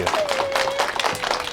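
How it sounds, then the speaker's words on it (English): Light audience clapping in an elementary school gathering, a scattered patter of hands at modest volume, with a faint tone running beneath part of it. "Can we all have a big round of applause?"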